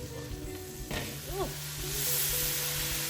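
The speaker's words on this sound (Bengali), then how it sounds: "এখন আমি মশলাটাকে খুব ভালো করে কষিয়ে নেব" Masala paste with turmeric frying in a pan over medium heat, a steady close sizzling hiss that grows slightly louder toward the end, with a faint tonal chirp in the middle and no speech.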